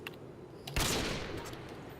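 A sniper rifle shot in Call of Duty Modern Warfare 2 on PC fires as one loud, sharp blast midway, trailing off into a fading echo over quieter game sounds.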